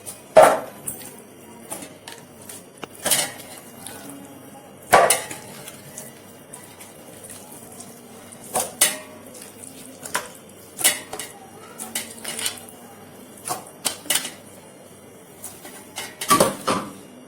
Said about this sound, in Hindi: ये 1 किलो बासमती राइस धो के साफ करके रखी हूँ। अब मैं इसमें डाल रही हूँ मसाले के साथ।